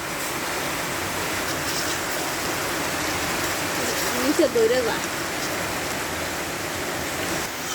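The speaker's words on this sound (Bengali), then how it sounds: "রাত দিন এক সমান বৃষ্টি নামতেছে" Steady heavy rain falling outside, an even hiss that continues throughout, with a brief faint voice partway through.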